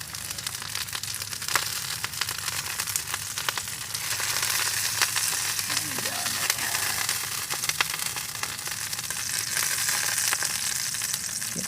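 Steak sears over a hot open fire, a constant crackling sizzle with dense popping spatter that stays loud and close throughout, no voices.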